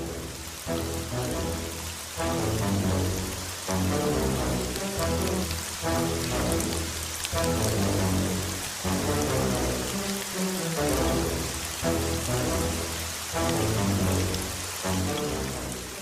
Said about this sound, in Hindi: और जैसा कि ईश्वर ने कहा था, तेज बारिश होने लगी।